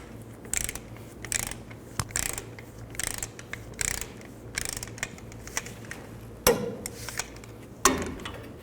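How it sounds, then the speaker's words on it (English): Ratchet tightening brake caliper bolts on a 1999-2007 Chevy Silverado 2500 rear brake, with rapid clicking bursts repeated about a dozen times in short strokes, close, with a couple of sharper metal knocks. "Then tighten the caliper bolts to 80 foot-pounds."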